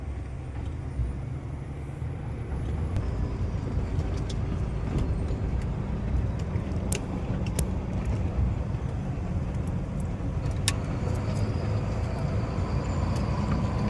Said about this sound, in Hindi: लगातार गाड़ी तीसरे गियर में चल रही है।